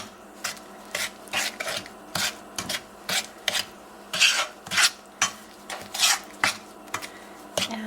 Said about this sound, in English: I'm just trying to get the sugar and the butter really well mixed together.